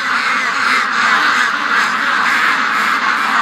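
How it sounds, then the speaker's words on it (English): A small wild duck calls from inside a pen, its steady raspy quacking filling the scene loud and close without pause, with other ducks nearby. "Oh, the little wild duck's still in the pen."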